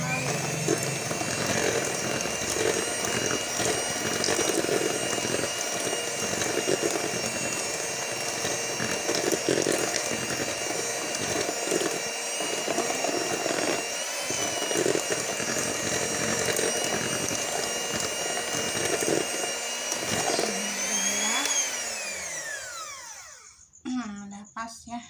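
An electric hand mixer whirs steadily through steamed sponge cake batter made with one egg and flour, a loud continuous motor drone that runs for most of the stretch before winding down and stopping near the end.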